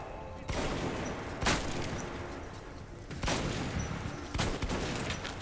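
Heavy gunshots firing military-grade rounds in the post-apocalyptic shooter Metro 2033, four loud booming discharges spaced about a second apart, each with a rumbling echoing tail in a reverberant underground space, no talking over them.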